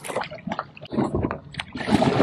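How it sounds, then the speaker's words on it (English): A kayak paddling through kelp beds near a beach launch beside hotels, with irregular splashy paddle strokes and water gurgles over light wind noise, fairly close and moderately loud, with no talking. "One of the things I love about paddling through kelp beds"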